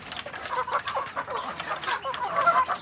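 Young free-range village chickens about two months old cluck and chirp in a busy overlapping chorus, close and continuous.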